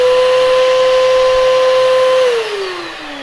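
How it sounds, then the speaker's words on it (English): A vacuum cleaner motor whines loudly and steadily nearby, blowing air into a Subaru WRX STI exhaust to find leaks, with a rushing airflow; near the end its pitch drops as it slows. "So I put the vacuum cleaner there,"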